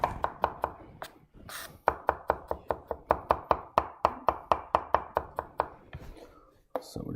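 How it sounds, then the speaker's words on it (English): Rapid, steady knife chops dicing a lot of garlic on a cutting board, crisp close taps in quick rhythm with a brief pause midway, a voice talking softly underneath. "So we're just dicing this up really nice."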